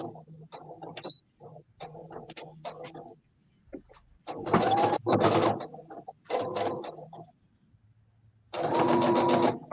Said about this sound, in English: I'm trying to sew on the edge.